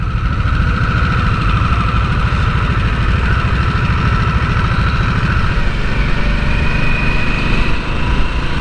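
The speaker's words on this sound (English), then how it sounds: "I'm assuming the motor's counterbalanced completely with the new Revolution motor." A 2022 Harley-Davidson Nightster with the new counterbalanced Revolution engine runs steadily at a smooth idle, a close, continuous low rumble with a faint higher whine and no voices.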